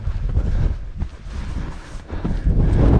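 Strong gusty wind buffets the microphone on the exposed summit of Cox Tor on Dartmoor, a loud low rumbling roar that swells and drops before surging again at the end.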